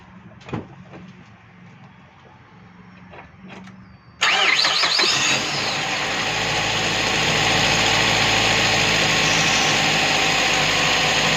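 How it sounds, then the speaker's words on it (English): A car engine cranks and fires after a repair job, then settles into a steady, loud idle close by, with faint clicks and knocks beforehand and no talking. "Now we're going to start the car, just to make sure that it runs good."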